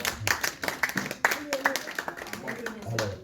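A seminar audience claps in a quick, uneven rhythm of sharp hand strikes. Someone speaks over the clapping the whole time.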